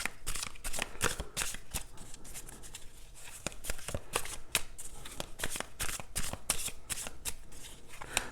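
Tarot cards shuffled by hand up close, a continuous run of crisp riffling flicks and slaps in quick irregular rhythm, with no talk.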